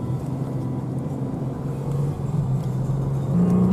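An off-road vehicle with its tires let down drives across soft Dubai sand dunes, a close, steady engine rumble that swells slightly as it goes, with no talk.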